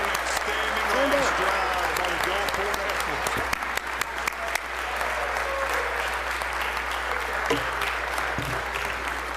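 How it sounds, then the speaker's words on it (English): Lawmakers and guests in the Mississippi House chamber applaud state champions, a sustained, loud crowd clapping over a steady low hum, with voices heard briefly amid it. "Y'all give our state champions a hand of applause."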